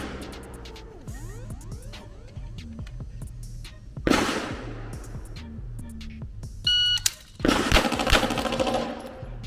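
Sharp gunfire bursts from a Palmetto State Armory AK-V 9mm pistol-caliber carbine at a shooting range, with strong impulsive reports rising out of a tonal background hum and ringing decay.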